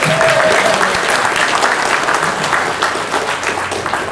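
Loud, sustained applause from a large crowd welcoming a speaker at the opening day of Royal Freemasons Benalla, steady clapping filling the whole stretch without talk.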